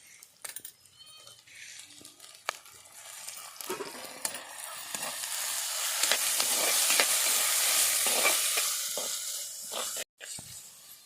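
Tomatoes fry with onions in a pan, starting with sparse clicks and stirring scrapes, then a sizzle that swells and holds fairly loud before cutting out briefly near the end.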